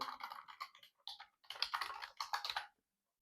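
Close, quick keystrokes on a computer keyboard type out an email address in irregular bursts with brief pauses, ending in silence.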